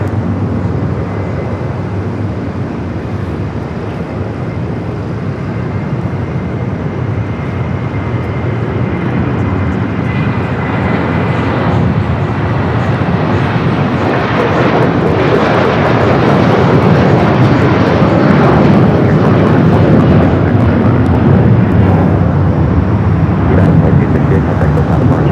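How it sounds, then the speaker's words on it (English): A United Boeing 757 jet takes off at LAX bound for Dulles, a loud, continuous broadband roar that builds slightly through the clip, with no talk. "Next takeoff, United, flight heading to Dulles, 757 at 300."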